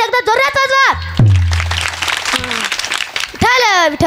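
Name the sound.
audience clapping loudly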